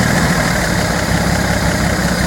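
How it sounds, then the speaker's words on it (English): A Datsun 240Z engine idling a little rough, a steady close, loud low rumble with slight unevenness and no voices. "It's idling a little rough, but it's smooth."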